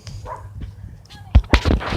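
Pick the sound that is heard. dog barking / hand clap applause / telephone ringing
dog barking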